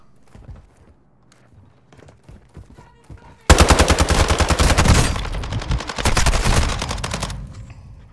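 Video game gunfire bursts in suddenly as a loud, rapid automatic volley, sustained for several seconds and then tapering off, preceded by quieter clicks and footstep-like taps.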